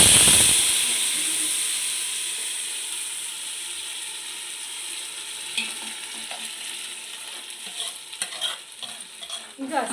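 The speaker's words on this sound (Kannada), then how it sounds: "ಸ್ವಲ್ಪ ಎಣ್ಣೆ ಹಾಕ್ಕೊಳ್ಳಿ, ಸ್ವಲ್ಪ ಸಾಸಿವೆ, ಕರಿಬೇವು" Mustard seeds, curry leaves and ground masala tempering in hot oil, a steady crackling sizzle that fades slightly, then sharper spits and stirring scrapes toward the end, with no voices.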